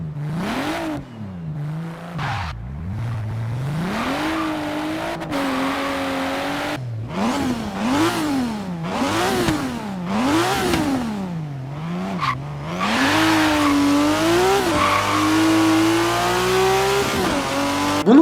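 Engines rev up and down in rapid sweeps as gears shift, loud and continuous, with occasional tire squeal in the Forza Horizon racing game.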